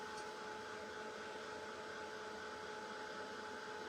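A hair dryer blows steadily while drying paint on a vintage thread holder with a spindle, giving a constant airy whir with a faint steady motor hum, quiet and unbroken, with no talking.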